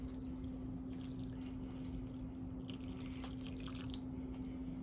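Water poured into a pan of orzo in a one-pot dish, a soft continuous trickle and dribble, faint beneath a steady hum of air conditioning.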